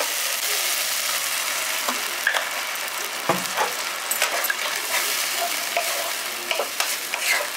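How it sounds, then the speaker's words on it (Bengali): A little water poured into a frying spice masala of softened tomatoes in a village-style kitchen gives a continuous close sizzle, with scattered spoon taps and stirring scrapes. "এবার মশলাটার মধ্যে আমি জল দিয়ে দিচ্ছি অল্প সামান্য।"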